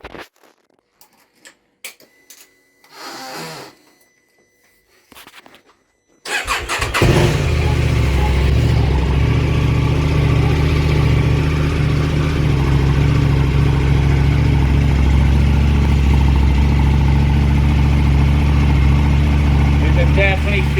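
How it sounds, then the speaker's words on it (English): A KTM 790 Adventure motorcycle fitted with a PowerParts pre-filter cranks briefly, then fires and settles into a loud, steady, throaty idle up close. Some clicking and handling noises come first. "We'll start the bike now."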